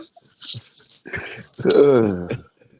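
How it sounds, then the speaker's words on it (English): Dogs scuffle in a fight, giving short growls and yips and then a loud, wavering whimper, all heard close up. "y'all gonna come dog fight in the middle of the podcast?"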